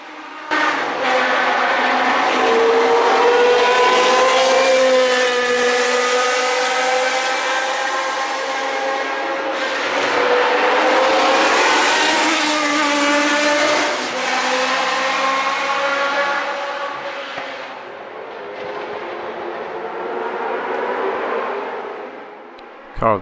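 Historic Formula 1 race cars at Brands Hatch, loud high-revving engines screaming past in succession, pitch sweeping up and down through gear changes as each car approaches and fades.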